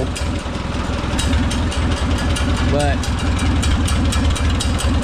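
An Oliver 66 tractor engine idling after a Marvel Schebler TSX carburetor rebuild: a loud, steady, close rumble with regular ticking chatter throughout, while someone talks over it.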